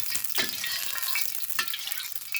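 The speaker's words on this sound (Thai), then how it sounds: "ผัดข้าว" Rice being stir-fried with pork fat in a pan, a gentle sizzle with a few spatula scrapes and stirs, close and moderately quiet, with no talking.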